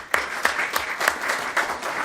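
Applause at a town council meeting, a crowd clapping steadily for about two seconds with several louder bursts, moderately near.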